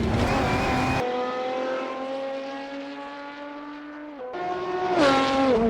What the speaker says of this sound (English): But listen to that glorious roar as the car is past the tires.